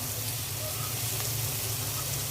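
Ginger-garlic paste sizzling in a pan with lightly fried onions, a steady, even hiss of frying that holds without pause and without any talk over it.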